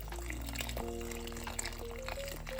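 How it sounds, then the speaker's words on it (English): A warm egg-lemon mixture is poured into a Greek chicken lemon soup while it is stirred, producing a steady, continuous liquid pour over a constant background hum. "And now I'm just going to pour this in, but while I'm pouring it, I'm going to keep stirring."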